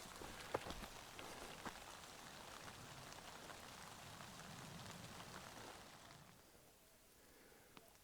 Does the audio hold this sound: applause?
no